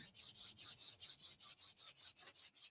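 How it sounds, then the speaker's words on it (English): Brisk, rhythmic swishing of palms rubbing back and forth, about five strokes per second, close and steady with no voices. "We're going to bring the hands together and just rub your hands together."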